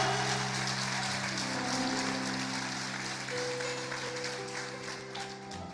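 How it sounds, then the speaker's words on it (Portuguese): A church congregation claps together in sustained applause, fairly soft and even, with a held organ or keyboard chord droning underneath throughout. "Você pode aplaudi-lo mais uma vez, Ele é digno."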